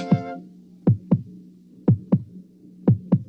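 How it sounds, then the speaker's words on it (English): Kenner Baby Heartbeat toy stethoscope gives six loud heartbeat thumps in three lub-dub pairs, evenly spaced over a steady low hum, with no talking. "I can really hear your heartbeat."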